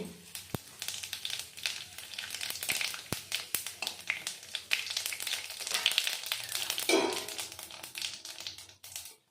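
Whole cumin and bay leaves crackle and sizzle in hot oil for a Bengali tilapia and gathi kochu curry, with dense spitting bursts and sharp pops over a steady frying hiss, close and lively.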